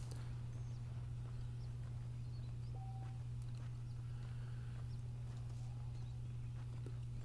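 Saddled horses clip-clop at a walking pace in the video game Red Dead Redemption, quiet hoofbeats over a steady low hum and faint background ambience.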